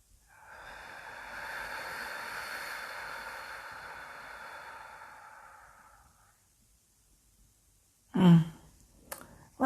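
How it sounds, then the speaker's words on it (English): A long, slow inhaled deep breath, soft and close, lasting several seconds before fading into silence, followed by a brief louder thump or click near the end. "Let's take a deep breath together."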